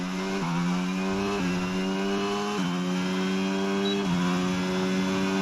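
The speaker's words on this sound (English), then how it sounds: "I quite like the engine sound in the other cars" Several F1 22 race car engines scream in a video game, pitch climbing steadily then dropping sharply at each gear shift, four upshifts in a row, loud and continuous with no talking.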